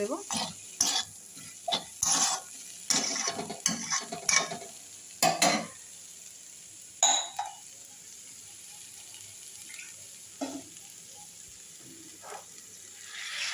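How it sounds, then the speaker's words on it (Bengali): Seed banana mixture being mixed by hand, a series of short wet squelching and pressing sounds in irregular bursts over the first half, then sparser and quieter, close up with no talk. "ভালো করে মাখিয়ে নিই আমি একসাথে মিশিয়ে নিই"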